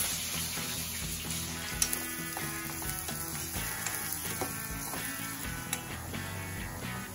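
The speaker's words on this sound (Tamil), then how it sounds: "வெங்காயம் எல்லாம் நல்லா வதங்கிடுச்சு ரொம்ப வதங்க வேணாம்" Two large cut onions sizzle and fry steadily in a pan, cooked to a medium softness, a continuous close crackle running the whole time with faint clinks over a quiet musical bed.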